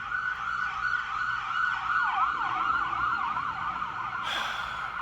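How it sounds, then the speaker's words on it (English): An ambulance siren sweeps up and down in a steady wailing pattern somewhere outside, moderately distant, with faint road traffic underneath and a brief sharp noise near the end. "The ambulances never rest, even on Sunday."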